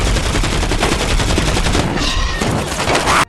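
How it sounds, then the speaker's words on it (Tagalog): Movie action scene with a loud, dense volley of rapid gunfire that rattles on continuously, with blasts layered into the barrage. "Agad siyang nagpaputok na nagdulot ng pagsabog."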